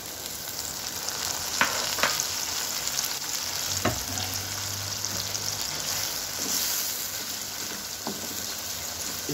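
Peeled tomatoes sizzle steadily in a pan on low flame while cooking daal kadu, a constant frying hiss broken by a few soft clinks and a brief low hum, with no talking.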